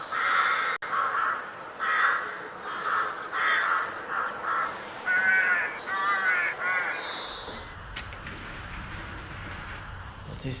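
A crow caws repeatedly in a steady series of harsh calls spaced about a second apart, fairly close and clear over broadband background noise, with a few other brief sounds near the end.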